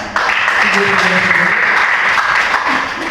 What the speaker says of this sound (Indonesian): Sekali lagi berikan tepuk tangan.